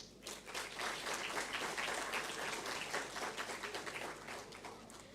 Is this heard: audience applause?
yes